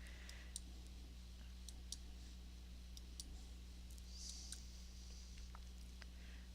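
Sparse, faint computer mouse clicks, a handful of sharp isolated taps spaced a second or so apart, over a low steady hum while working in Word 2010.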